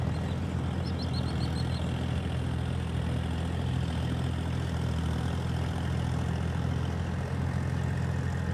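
Kubota farm tractor diesel engine idling steadily in a rice field, a constant close, loud low rumble lasting the whole stretch, with faint bird chirps briefly above it and no talk.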